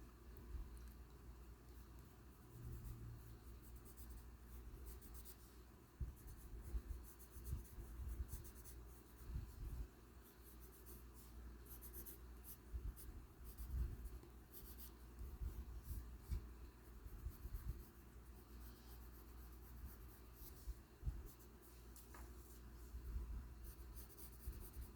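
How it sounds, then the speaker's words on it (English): A pen scribbles on paper for a long stretch, soft scratchy strokes in uneven bursts close to the mic, faint over a low background hum. "then you see nothing but you hear scribbles"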